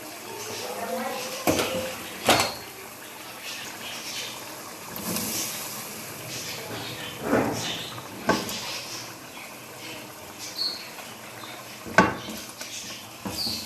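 Potatoes fry with masala in a pan for a ridge gourd and potato sabzi. Quiet background sizzle is punctuated by a handful of sharp spoon clanks and scrapes against the pan at irregular intervals.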